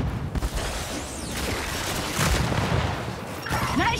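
Dense gunfire rattles through a Gears 5 horde-mode battle on the Foundation map, with overlapping shots and booming impacts in steady bursts, loud and close, with no talking.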